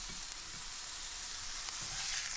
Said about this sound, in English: we're going to put it into a hot pan and cook it for 60 to 90 seconds per side